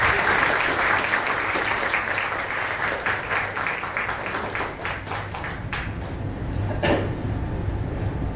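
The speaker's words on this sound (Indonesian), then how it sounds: "Berikan tepuk tangan, berikan tepuk tangan." An audience at a dream-analysis talk claps steadily, a dense sustained round of applause that fades slightly before a few louder claps near the end.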